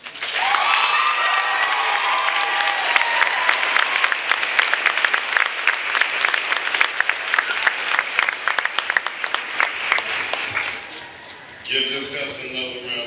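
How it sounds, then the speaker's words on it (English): An audience at the College of Marin 2016 commencement applauds a student speaker: dense, sustained clapping from a large crowd for about ten seconds, then a voice speaking at the end as the applause fades. "Give yourself another round of applause"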